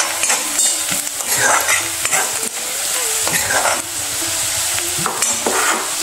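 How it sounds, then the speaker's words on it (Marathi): Turmeric and red chili being stirred in a sizzling pan make repeated scraping, clinking strokes over a constant frying hiss, close and fairly loud. "चांगलं हलवून घेते. मिक्स करते."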